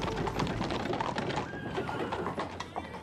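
Horses, mares and foals, at a medieval monastery, with hooves clopping and a faint whinny inside a busy, loud layer of animal and farmyard noise, with no talking.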